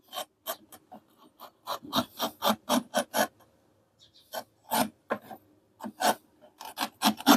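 A small knife blade cuts a flower design, giving sharp, repeated rasping scrapes in quick bursts with brief pauses, close and fairly loud.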